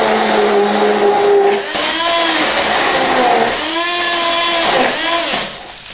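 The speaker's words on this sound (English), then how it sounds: "So just a household handheld blender." A household handheld blender blends salsa in a plastic jug, giving a loud, continuous motor whine that climbs and dips in pitch as it runs, with no other sounds in the mix.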